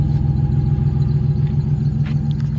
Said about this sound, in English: My belt squeaking.